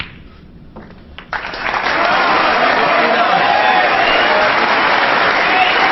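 Snooker crowd applauding Ronnie O'Sullivan's win over Selby at the 2008 Premier League final, sparse claps building within two seconds into loud, sustained, dense applause.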